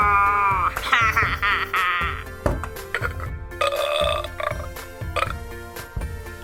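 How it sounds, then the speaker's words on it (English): Repeated burping sounds made by a voice for a toy Tamatoa crab character in a Play-Doh feeding game, several close, loud belches over a musical backing. "Tamatoa, stop burping. That is so disgusting."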